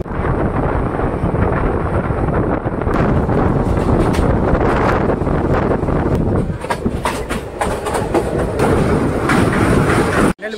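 A passenger express train runs after leaving Baripada station, producing a loud, continuous rumble with rhythmic clickety-clack of the wheels and heavy wind buffeting the microphone throughout.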